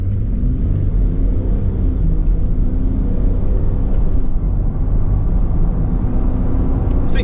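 A remapped Range Rover Sport TDV6 diesel pulls away from a standstill in Sport mode, its low, steady engine rumble and road drone heard from inside the cabin and holding loud and even throughout.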